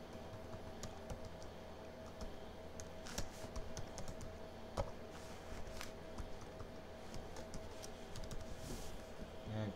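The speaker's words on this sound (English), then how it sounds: "I'm just going to type in a website URL that's off my website." Soft, continuous keystrokes on a computer keyboard as a website URL is typed in, fairly faint and even-paced with no speech.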